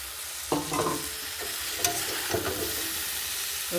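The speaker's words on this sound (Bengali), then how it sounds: "মটরশুঁটি আলু ফুলকপি একসাথে দিয়ে দিলাম সব ভালো করে ভেজে নিয়েছি বেশি তেল দিয়ে" Peas, potatoes and cauliflower fry in plenty of oil under a steady close sizzle, broken by a few scraping stirs of the spoon against the pan, no voices.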